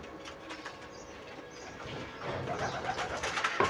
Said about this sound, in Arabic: ده الحمام بتاعنا